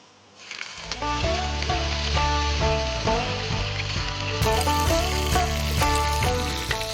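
Onion paste hits hot oil in a Bengali fish-curry pan and sets off a steady, close sizzle that goes on without a break, with upbeat background music playing over it.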